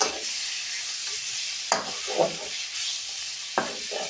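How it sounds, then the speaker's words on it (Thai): Chicken with herbs stirred briskly in a pan over high heat, a steady bright sizzle with several sharp scraping strokes of the utensil recurring every second or two, close and fairly loud, with no speech. "เตาเราแรงเราต้องรีบคนเลย ปล่อยมือไม่ได้เขาจะไหม้อย่างเดียว"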